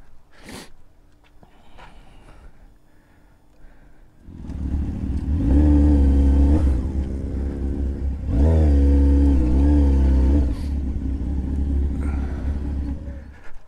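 Motorcycle engine starting and revving up close, a low throbbing rumble that swells into loud, sustained revs with rising and falling pitch, following a quiet stretch and a sharp knock at the start.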